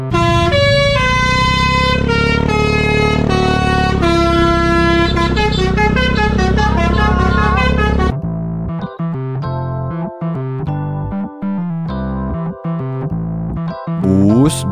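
Loud telolet musical air horns on Indonesian buses blare a long chord-like melody with shifting notes, then switch abruptly to choppy, staccato horn phrases with brief gaps between them.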